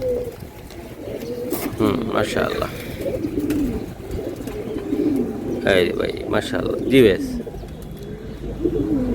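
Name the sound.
pigeons cooing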